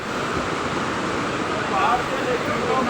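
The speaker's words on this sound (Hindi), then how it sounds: "इस तरह से पहाड़ों से पानी खिसक रहा है, बहुत भयंकर जगह जगह पहाड़ों से पानी गिर रहा है।" Water pours and cascades down mountainsides in a fierce flood, a steady, dense rushing roar that never breaks and swells slightly toward the end.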